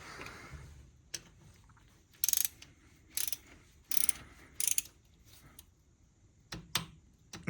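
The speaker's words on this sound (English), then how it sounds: "We're going to set our torque wrench to 11 foot-pounds" Torque wrench set to 11 foot-pounds ratcheting on a 2016 Polaris Sportsman 570, a few short sharp clicking bursts spaced apart, close and clear against a quiet background.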